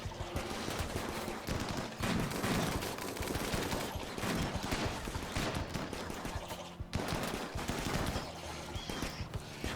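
Gunfire from the video game Rimworld rattles on without pause in dense, overlapping bursts of rapid shots, loud and continuous throughout.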